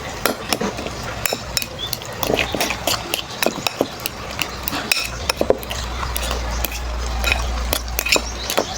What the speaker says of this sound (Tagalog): Haluin natin guys hanggang sa mahalo lahat.